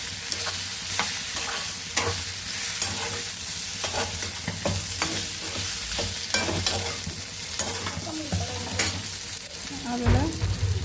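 Butter garlic chicken with a little soy sauce fries in a pan, a steady close sizzle broken by frequent scrapes and knocks of stirring throughout.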